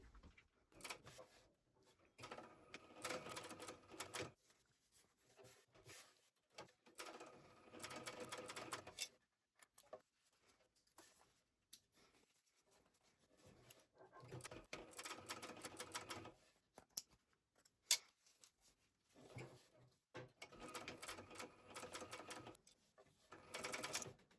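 A sewing machine stitches a small wallet seam at a number 5 stitch length. It runs in quiet bursts of rapid mechanical chatter broken by short pauses, with no talking.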